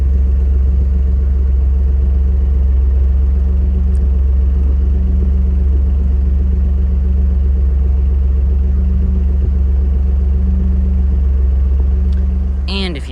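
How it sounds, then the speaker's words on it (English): Turbocharged V6 in a 2013 Ford F-150 pickup idling steadily, a deep continuous rumble heard close at the exhaust, unchanging for most of the time before a brief clatter at the end. "if you listen to that, you'll hear a nice running turbocharged V6"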